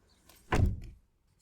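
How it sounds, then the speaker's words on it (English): A single solid thunk of a 2017 Toyota Corolla SE car door being opened or unlatched, short and close, with quiet surroundings before and after. "Let's first start by opening the door and see what it looks like."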